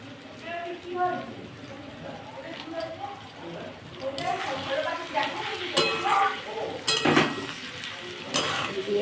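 Raw banana kofta curry ingredients being sautéed and stirred in oil with sugar and salt, a steady low sizzle with scraping stirs under continuous talk.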